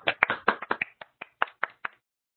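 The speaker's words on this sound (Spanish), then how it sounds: "le ofrecemos un fuerte aplauso" Scattered clapping from a small online conference audience after a presentation, a dozen or so separate crisp claps that thin out and stop after about two seconds, leaving silence.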